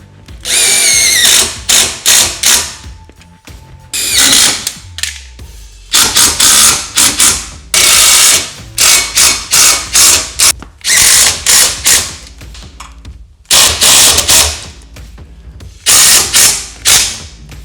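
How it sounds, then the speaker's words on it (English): Power drill driving self-threading bolts into a Luverne rear grip step on a RAM ProMaster van, heard as repeated loud whirring bursts with ratcheting clicks and short pauses between runs, no talking. "you'll use a self-threading bolt to zap them right into"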